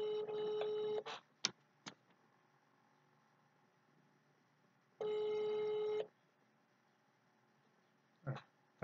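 Telephone ringing on a call placed to a police station in Tetouan: two long electronic ring tones a few seconds apart, separated by short clicks and beeps, fairly faint with no one talking.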